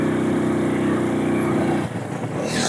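A motorcycle labours uphill toward a view deck at Arco, its engine a loud, steady drone that dips and shifts in pitch partway through before picking up again, heard close.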